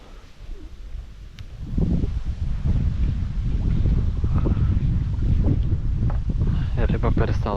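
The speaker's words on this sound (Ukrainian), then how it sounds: "Вітер дуже сильний зірвався зараз." Steady roar of strong wind buffeting the microphone while pike fishing, with rustling and lapping water noises beneath and a voice speaking over it.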